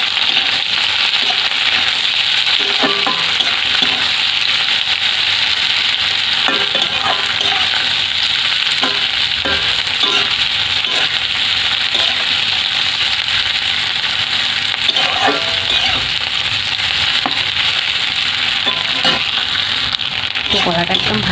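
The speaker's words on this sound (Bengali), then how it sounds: "এই পেঁয়াজটাকে একটু লাল লাল করে ভেজে নেব।" Coarsely chopped onion fries in oil until reddish for a raw green banana dish: a constant bright sizzle close by, broken by scattered clicks and scrapes of stirring.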